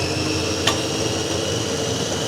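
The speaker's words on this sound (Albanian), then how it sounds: "Vendosim frutat në blender." A fruit-filled blender whirs in a constant, loud, high-pitched motor drone with one brief knock partway through.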